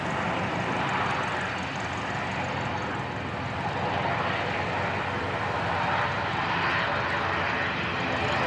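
An Air Chathams airliner arrives at Christchurch Airport, a loud, broad, steady engine roar that holds evenly throughout, heard close with no talk.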